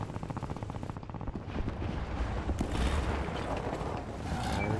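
Tank cannon fire in War Thunder during a Russian tank battle, a far shot at about one kilometre, heavy booming blasts and rumbling engine noise, with a sharp report near the middle followed by a sustained low roar.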